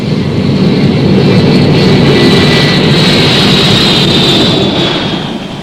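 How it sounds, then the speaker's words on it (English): An EC-135C jet stratotanker flying a Cold War Looking Glass airborne command mission from Offutt Air Force Base, a loud sustained jet roar with a whining high tone, steady throughout and easing slightly at the end. "Looking Glass missions are flown from Offutt Air Force Base by EC-135C jet stratotankers."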